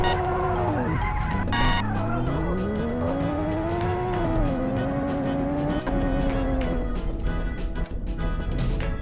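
Engine of a car in the video game PayBack 2 rises and falls in pitch while tires squeal and skid, loud and continuous throughout.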